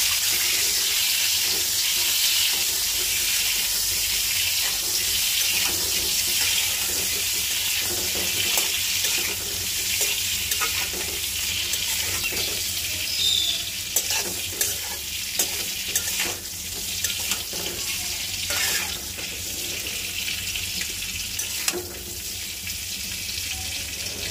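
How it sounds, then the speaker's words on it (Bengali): An egg frying lightly in a pan gives a steady sizzle that lasts throughout, with scattered clicks and scrapes of stirring on top and no voices. "দেখেন গাইস, হালকা ডিমটাকে ভেজে নিতেছি।"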